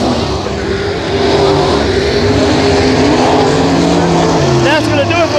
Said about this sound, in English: Greg Knight coming out of four is going to pick up heat race number one here for your Street Stocks.